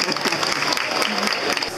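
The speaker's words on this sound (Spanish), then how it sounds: "ahí está, fuerte el aplauso" Loud, dense clapping from an audience at a tango talk event, continuous and close, with voices faintly mixed in.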